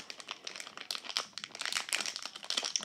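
Dense, continuous crinkling and crackling of plastic Hairdorables doll packaging being handled and pulled open, close and fairly loud, with no talk.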